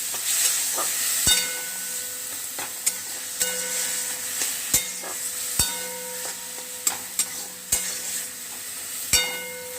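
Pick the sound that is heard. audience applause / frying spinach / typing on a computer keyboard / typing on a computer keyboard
frying spinach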